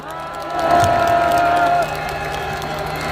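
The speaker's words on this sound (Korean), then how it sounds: "오늘 참석해주신 여러분들의 박수와 함성으로" Rally crowd at a large outdoor March 1st Independence Movement Day national assembly in Korea, loud sustained applause and cheering with whoops, a long sustained tone cutting through partway before the crowd noise settles to a lower roar.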